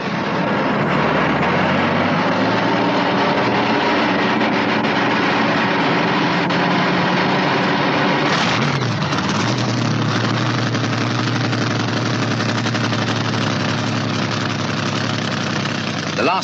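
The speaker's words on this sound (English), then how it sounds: "Now they're ready to fire the machines up." Drag racing dragsters at a strip in England are started on rollers and settle into a loud, rough, continuous idle, with a sharp change in engine note partway through as another machine fires up alongside.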